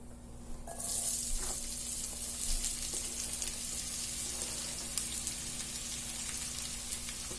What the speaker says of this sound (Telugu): అలాగే ఆనియన్స్ వేస్తున్నాను